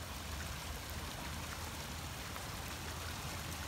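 Steady heavy rain in North Royalton, Ohio pours down continuously, a dense even hiss with running water beneath, with a flooded backyard nearby.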